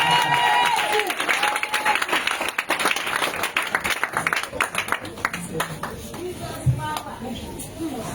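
A church congregation applauding, dense clapping that starts strong and gradually thins and fades, heard close with voices speaking over it.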